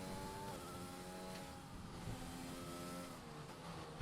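High-pitched Formula 1 engine from a racing video game, a continuous loud whine with rising and falling gear-change pitches as the car accelerates and shifts, with no talk over it.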